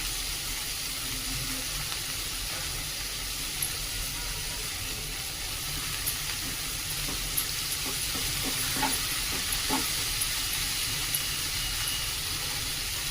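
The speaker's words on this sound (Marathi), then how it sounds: "आता हा स्वच्छ धुवून घेतलेला कोबी त्यामध्ये टाकून घेऊया" Washed cabbage hisses and sizzles in a hot pan on a lowered gas flame for cabbage bhaji, a steady close frying crackle with a few faint stirring clicks and no talking.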